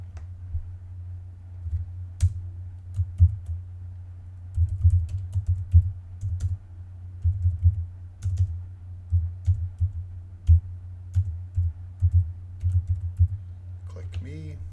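Typing on a computer keyboard while changing button text in a NetBeans GUI form, with steady bursts of close key clicks throughout, a constant low hum underneath and brief faint talk near the end.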